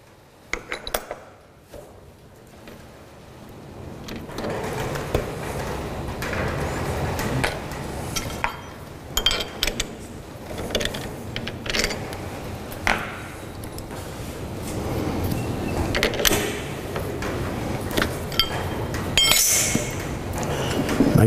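Metal being grooved on a lathe by a cutting tool, with a steady machining hum and intermittent clinks and chatter from the cut throughout, growing slightly louder toward the end, no talking.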